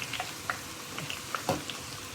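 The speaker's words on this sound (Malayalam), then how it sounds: "ഇതൊന്ന് മൂത്ത് വരുമ്പോൾ നമ്മളിതാ കറിവേപ്പില ഇടുകയാണ്." Curry leaves crackle and sizzle as they fry in homemade hair oil, with small sharp pops scattered over a soft bubbling hiss, close and moderately quiet.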